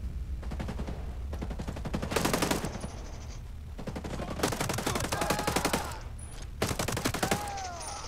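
Rapid automatic M4 rifle fire in Ghost Recon Breakpoint, several sustained bursts separated by brief pauses, loud and close, with whizzing and ricochet tones between volleys.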